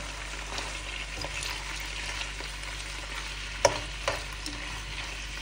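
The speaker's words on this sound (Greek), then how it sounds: "την ακούτε πως τσιγαρίζεται" Food sautés in a hot pan with a steady, close sizzle and crackle, broken by a couple of sharp clicks from stirring; no voices.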